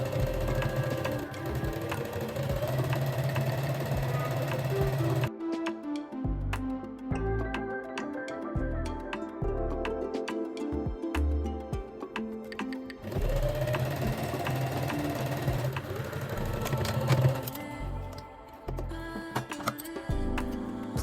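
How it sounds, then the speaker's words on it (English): A sewing machine stitches along the open edge of fabric for a kimono dress, running in long steady bursts of rapid rattling needle strokes broken by short pauses and stop-start stitching, close and clear with no voices. "Stitch along the open edge, close to the edge."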